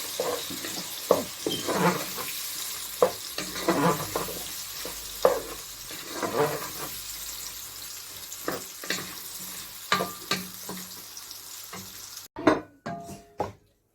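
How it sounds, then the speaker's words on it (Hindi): Okra (bhindi) frying in hot oil, a continuous close sizzle broken by repeated stirring clatters and scrapes, ending in a few sharp utensil knocks, no talking. "ऑयल गर्म हो गया है, अब इसमें हम अपना भिंडी ऐड करेंगे।"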